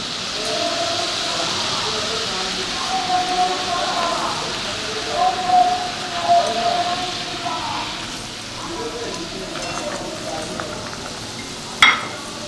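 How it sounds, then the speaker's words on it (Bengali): Fish curry gravy boils in a pan, a steady hiss of bubbling and simmering with soft pops and a brief sharper crackle near the end, faint voices murmuring underneath. "ঝোল ফুটে গেছে, এবার মাছ ভাজা আর বড়িটা দিয়ে দেবো।"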